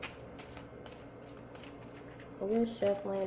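A deck of tarot cards is shuffled with soft, rapid riffling flicks, then a voice briefly sounds over it at the end.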